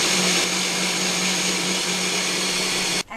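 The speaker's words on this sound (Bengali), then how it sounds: "এখন আমি এটার মধ্যে আধা চায়ের চামচ লবণ দিয়ে দিচ্ছি, দিয়ে আবার আমি এটাকে ব্লেন্ড করব" A blender whirs loudly and steadily, blending chitoi pitha batter made with water and salt, a close, constant motor drone that cuts off abruptly at the end.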